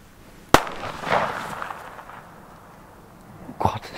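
Two sharp firecracker bangs from German New Year's fireworks, a loud crack near the start and a second burst near the end, each trailing off into rustling outdoor noise.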